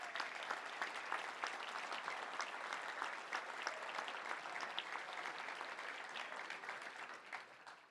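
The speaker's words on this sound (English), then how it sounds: "Let's stand up. Let's give them a round of applause." A standing crowd at the Little Rock Touchdown Club gives a sustained round of applause, a thick even wash of many hands clapping at a steady level, easing off slightly at the close.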